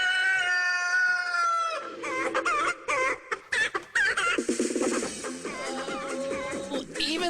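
Hen clucking during a sports talk show: a drawn-out harmonic call, then a burst of loud, rapid, warbling clucks and squawks that continue steadily to the end, with no talk over them.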